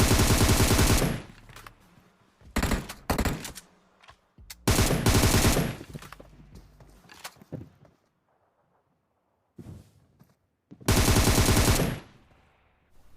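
Three loud bursts of automatic gunfire from the Free Fire mobile battle royale game, each lasting about a second, separated by quieter in-game noises and a silent stretch.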